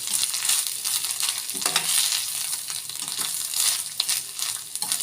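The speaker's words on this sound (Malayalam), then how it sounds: "കുറച്ച് ഫ്രൈ ആയിട്ടുണ്ടെങ്കിൽ നമുക്ക് കുറച്ച് തേങ്ങ ഇടാം" Grated coconut frying in oil in a pan for fish curry gives a loud, steady sizzle, with stirring scrapes and a few sharp clinks up close.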